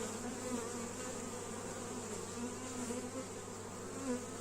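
Honeybees buzz steadily around an opened beehive during a colony inspection, a continuous close drone of many insects with no talking.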